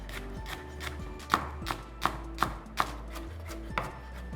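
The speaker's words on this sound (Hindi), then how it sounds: "बूफिया रोल के लिए हम इस्तेमाल कर रहे हैं फ्रेश लेटस जिसे हम चॉप कर लेंगे।" Fresh lettuce being chopped with a knife for an egg kathi roll: about seven crisp, close knife strikes on a board, irregularly spaced, over quiet kitchen background with no talking.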